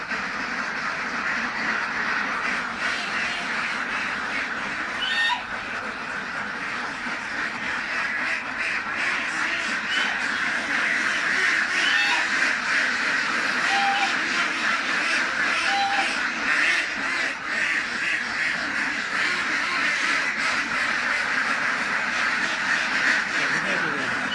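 Ducks quacking continuously in a noisy outdoor scene, with people talking nearby and a steady background hum throughout.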